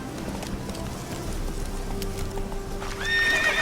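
Roach, Geralt's horse in The Witcher 3, gallops with rapid clip-clopping hooves close by, then lets out a loud neigh near the end.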